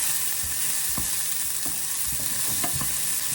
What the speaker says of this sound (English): And we're also going to add the garlic. We'll mix it.